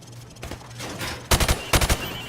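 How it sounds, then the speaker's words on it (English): Two quick bursts of rifle fire from the hip on a training range in Call of Duty Modern Warfare, each a sharp rapid volley of three or four shots, loud and close. "Now, shoot at the targets, while firing from the hip."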